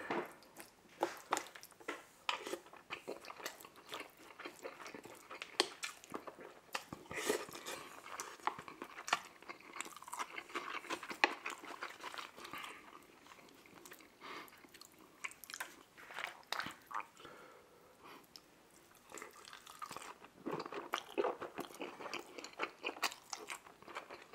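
Someone eats Indian food close to the microphone: curry, tandoori chicken and garlic naan. Soft, wet chewing and occasional crunchy bites go on continuously at low volume, with no talking.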